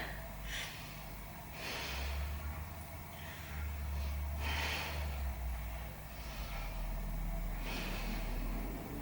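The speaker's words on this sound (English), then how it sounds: "Let's take a few breaths here." Deep breathing during a yoga stretch, several slow, audible inhales and exhales through the nose in a quiet room, soft and close with no talking.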